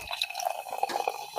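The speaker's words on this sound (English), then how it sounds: "The pouring part?" A drink pours from a can into a glass close by, a quick run of small splashes and bright liquid trickles lasting just over a second.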